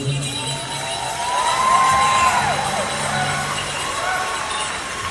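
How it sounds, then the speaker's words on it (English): Crowd at a large outdoor powwow in New Mexico cheers and claps in a broad, steady wash of noise, swelling slightly midway and holding loud to the end. "Let's give him a round of applause."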